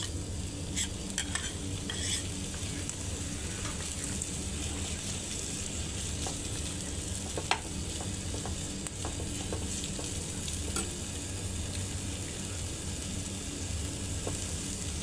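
Noodles being stir-fried with masala, fried onion and egg, with constant sizzling under brisk stirring and frequent sharp clinks of a utensil against the pan, close and steady throughout.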